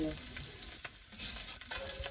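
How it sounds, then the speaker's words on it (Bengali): Onions fry lightly in a pan, a short, close, steady sizzle broken by soft stirring clinks. "এই যে পেঁয়াজ হালকা ভাজা হয়ে গেছে, এখন শাক দিয়ে দিব।"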